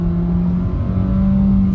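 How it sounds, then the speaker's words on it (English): A 2022 Kia Rio S Tech subcompact in sport mode pulls hard off the line, its engine droning loud and steady from inside the cabin with a sustained, rising tone. "off the line right here, sport mode, and on the gas."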